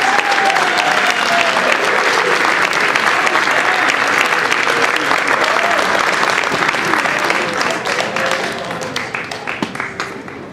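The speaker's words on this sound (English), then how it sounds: "let's have one final round of applause for all the scouts who earned rank advancements and their badges" A ceremony crowd at an Eagle Scout court of honor gives a long, loud round of applause for scouts earning rank advancements and badges, dense clapping filling the room and easing slightly near the end.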